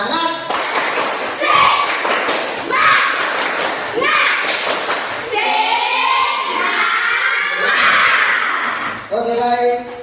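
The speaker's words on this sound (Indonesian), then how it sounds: "Tepuk semangat" Junior high schoolchildren in a classroom perform a rhythmic spirit clap chant, bursts of group clapping and shouted chanting voices in bouncy patterns, loud and close.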